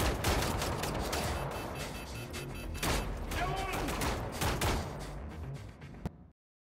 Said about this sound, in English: I know I'm being shot in the back.